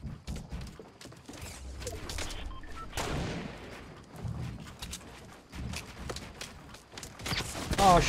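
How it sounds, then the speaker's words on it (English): Scattered gunshots in a Fortnite Battle Royale match during a Royale Rumble event, fairly faint distant pops and short bursts spread through the clip amid background game sounds, with a player talking. "people shooting from behind too"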